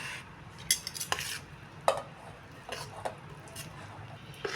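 Spoon stirring gongura (sorrel) leaves into a chutney mixture in a pan, with scattered scraping and clinking taps against the vessel, fairly close and moderately quiet.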